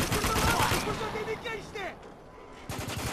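A mounted machine gun in the video game Spec Ops: The Line fires rapid, loud bursts that fade into scattered distant gunfire, with a voice speaking over the shooting.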